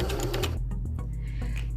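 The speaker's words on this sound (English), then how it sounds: "let me lower the pressure foot, and just sew a few stitches" A new sewing machine, run from a foot controller with the presser foot lowered, sews a few stitches in a quick mechanical whir with clicking pulses, close and steady throughout.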